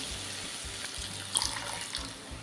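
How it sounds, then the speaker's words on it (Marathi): Water splashes and gurgles as it is poured into a pot of taro-leaf and chickpea curry, a brief steady pour at moderate volume. "आता ह्यामध्ये आपल्याला घालायचं आहे थोडंसं पाणी"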